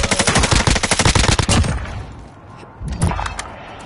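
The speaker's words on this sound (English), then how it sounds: "Someone's shooting at me here." Rapid automatic gunfire in Call of Duty Warzone rattles loud and close in a dense burst. It stops, then a second shorter volley follows after a brief lull.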